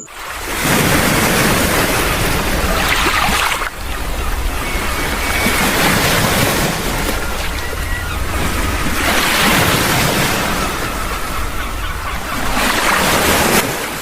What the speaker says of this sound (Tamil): காலை மோதுற அலைகளும்